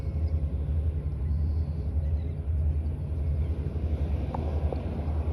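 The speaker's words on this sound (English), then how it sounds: "They got a tugboat up front on each side." Tugboats push a barge at Port Aransas, Texas, with a steady low engine rumble heard from a distance under light wind noise, continuous and unbroken.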